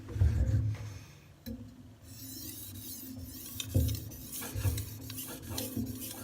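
A knife blade is worked over a fine-grit Suehiro Debado whetstone in repeated scraping, rasping strokes, close and moderately quiet, with brief pauses between passes and no talking.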